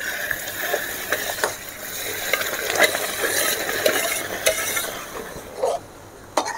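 Thick banana halwa mixture stirred nonstop in a pan with caramel, the spoon scraping and clicking in an irregular rhythm over a soft bubbling sizzle, close and moderately loud with no talking.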